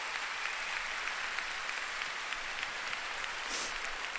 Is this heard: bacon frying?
no